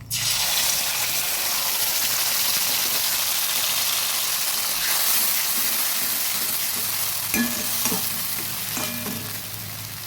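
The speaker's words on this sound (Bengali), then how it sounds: "জল দিয়ে দিচ্ছি সর্ষে আর চার মগজটা জলে গুলে নিয়েছি এবার ঢেলে দিচ্ছি" A mustard and melon seed paste mixed in water hits a hot pan and sizzles. The frying hiss is loud, steady and close from the start, with a few faint stirring clinks toward the end and no talk.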